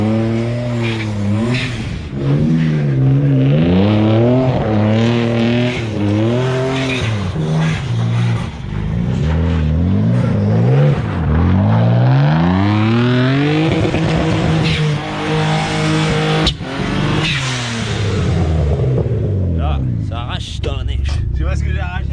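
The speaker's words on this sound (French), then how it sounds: "Fais chauffer le biturbo le frérot." BMW 325i bi-turbo engine revs hard close by, the pitch sweeping up and down through repeated throttle blips and pulls as it warms up, loud and sustained, with people talking over it.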